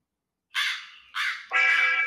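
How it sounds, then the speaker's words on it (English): A raven gives three loud, harsh calls in quick succession, close and clear against silence, the last one longer and more strained. "it's very clearly a Raven first"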